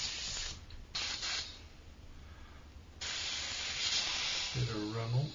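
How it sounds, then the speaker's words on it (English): An airbrush sprays dark Bolt Gun Metal paint, thinned first, onto the engine of a 1/32 Trumpeter F-8 Crusader model kit. Short hissing bursts give way to a longer steady hiss, and a voice speaks near the end. "So what we're going to do now is spray on the darker"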